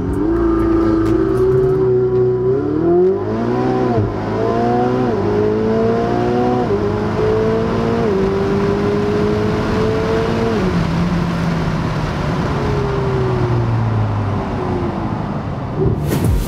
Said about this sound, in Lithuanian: Tuo metu paspaudu akceleratorių iki galo, jisai riboja sūkius, atleidžiu stabdį ir automobilis startuoja